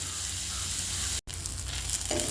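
Onions for kothu parotta fry in hot oil in a pan, a loud, dense, continuous sizzle heard up close with one split-second break.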